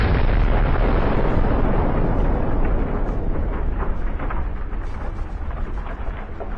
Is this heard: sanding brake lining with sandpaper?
no